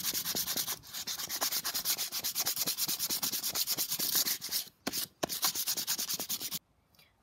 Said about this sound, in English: I'm using a sanding block here with just some standard sandpaper